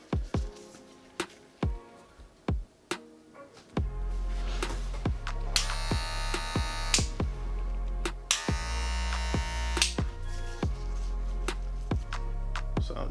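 Wahl Magic Clip cordless hair clippers, first a run of sharp clicks and taps, then the motor buzzing steadily and loudly close up, with brief stops and restarts.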